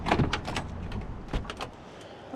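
A 1967 Pontiac Firebird door opening close by, with a sharp latch click followed by a smooth swing and a few soft mechanical knocks.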